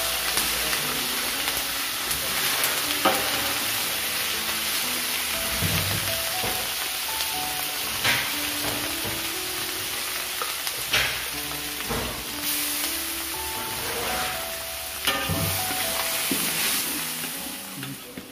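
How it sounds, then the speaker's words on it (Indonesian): Dried shrimp (rebon) and sambal ingredients stir-fry in hot oil, a steady sizzle running throughout with repeated scraping and tossing of a spatula in the pan. "Kita akan tumis dulu bahan untuk udang rebonnya."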